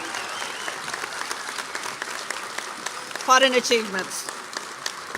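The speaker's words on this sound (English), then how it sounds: "we'll have a big round of applause for all our LINC graduates today" Continuous applause from a graduation ceremony audience for the graduates, moderate and steady throughout, with a short spoken remark rising over the clapping near the end.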